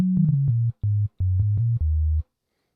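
Stock default tone of the Ableton Operator synth, a plain sine wave, played as a short run of clean, deep notes stepping downward, some gliding between pitches, with brief gaps and no other sounds.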